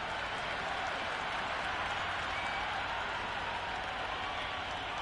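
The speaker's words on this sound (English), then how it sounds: "The crowd are really getting quite raucous." Stadium crowd in a cricket video game roars and applauds steadily, a dense continuous wash of cheering at moderate level with no speech over it.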